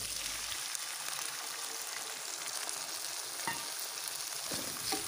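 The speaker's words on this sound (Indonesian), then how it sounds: "Aduk-aduk sebentar, kemudian tambahkan air secukupnya." Carrots and baby corn stir-fried in a pan for a restaurant-style capcay give off a steady loud sizzle with scraping stirs, and brief clacks of the utensil are heard near the end.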